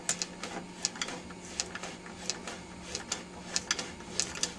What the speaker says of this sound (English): using the inching knob, manually move the drivetrain to make sure everything that's threaded is in perspective